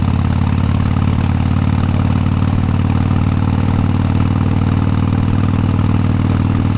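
A motorcycle engine running steadily, a loud continuous low rumble with a fast even clatter and no pauses, close to the bike.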